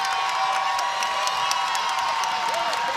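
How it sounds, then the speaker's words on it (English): Varsity boys' basketball playoff crowd on its feet in the gym, a sustained roar of cheering with whoops and shouts, loud and unbroken across the moment. "The crowd is on its feet."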